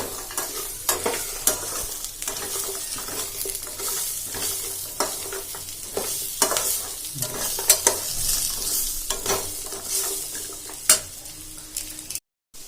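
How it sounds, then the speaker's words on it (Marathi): Soybeans being stirred into a chilli mixture in a pan, with continuous close sizzling and frequent scraping, clattering strokes of a spatula, no voices, ending with a brief cut. "आता आपण ही सोयाबीन यात मिक्स करणार पूर्ण"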